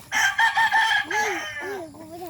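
A rooster crows up close in a loud, strained call, followed by a few lower clucks, with no talking.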